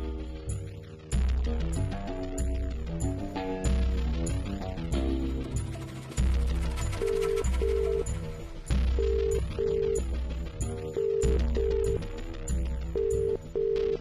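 A telephone rings on and off without being answered, a repeating electronic ringtone pattern with short pauses between bursts, fairly clear and close, with no talk over it.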